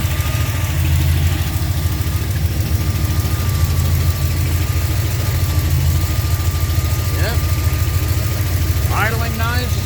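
A repaired Mopar 360 V8 idles steadily, a loud low rumble running the whole time, with voices briefly chiming in near the end.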